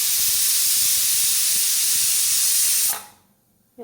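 A pressure cooker holding chicken curry vents steam after its whistle, a loud continuous hiss that holds steady for about three seconds and then cuts off abruptly into near silence.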